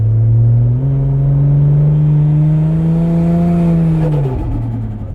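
A Barra-powered Holden fitted with a ZF six-speed transmission revs up as the throttle opens, then holds a loud, steady, deep rumbling drone close by before the revs drop away near the end.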